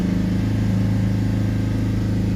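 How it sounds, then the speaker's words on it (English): A Mercedes C Class 2.1 CDI diesel engine holds a steady 3000 RPM, giving a loud, continuous mid-pitched drone with a strong low hum and no change in speed, heard alone without voices. "We'll hold the revs back up around sort of 3000 RPM"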